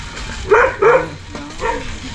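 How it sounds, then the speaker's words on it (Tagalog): A dog barks in a few short bursts, two close together and another a moment later, fairly near with background noise. "Balit ng aso eh, oh."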